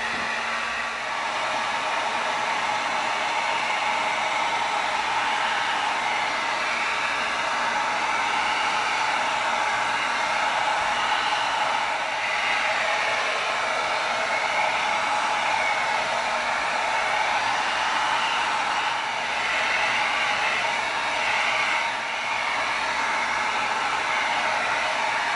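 A heat gun blows hot air onto an EVA foam cleaver blade, a steady, unbroken roaring whoosh that holds at an even level throughout with no talking.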